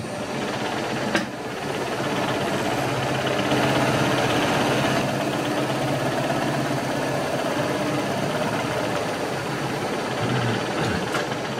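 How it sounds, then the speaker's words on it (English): A powered lathe taking a final finishing cut on a metal part about 17 mm thick, with a steady, full mechanical hum and grinding drone that runs unbroken and fairly loud throughout, without talk. "we'll just do this final cut on this one"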